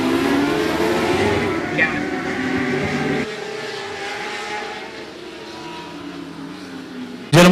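Texas Mod Lights race cars at 105 Speedway pick up speed again on a restart, their engines droning and whining in a layered, moderately distant roar that drops and thins partway through, and an announcer talks over it.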